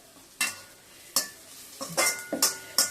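Curry leaves sauté in hot oil for Nellore tomato rice: about six quick, loud scraping strokes of a spoon against the pan, spaced irregularly over a faint background sizzle.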